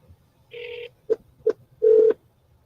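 Telephone keypad tones during a real estate call, a few short beeps: one sustained two-part tone, two quick blips, then a longer tone, near and clear with no talk.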